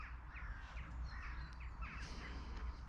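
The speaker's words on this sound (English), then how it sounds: "I've heard quite a lot of bird life" Crows cawing near a small creek, several harsh calls scattered across the clip at moderate distance over a steady low background rumble, with lighter bird chirps mixed in and no talking.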